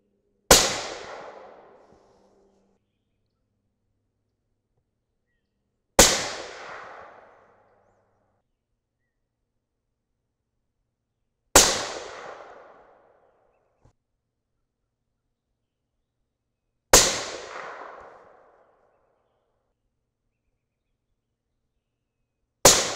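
Five loud, sharp 6.5 Creedmoor rifle shots with 142gr Sierra Match King bullets over 41.7 grains of IMR4451, fired from a cold barrel. They ring out about five seconds apart, each decaying into silence.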